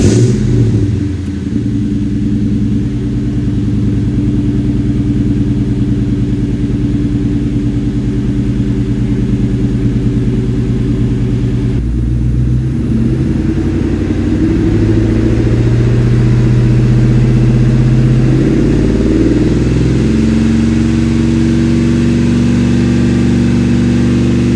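Ford Mustang engine fitted with a Borla Stinger exhaust starts cold and idles loudly, with a deep, throbbing, steady rumble that shifts in tone partway through, continuous and close.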